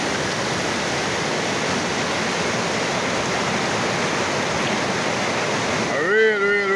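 Flooded river in Jamaica after heavy rain, a steady loud broadband rush of churning water filling the whole stretch, with a brief tonal sweep near the end.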